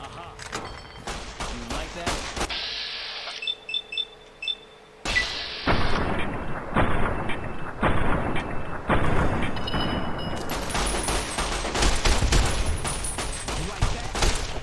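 Gunfire from a gun in the video game Fallout New Vegas: rapid repeated shots and booming blasts over game ambience, with a brief quieter pause in the first half before dense, sustained firing resumes.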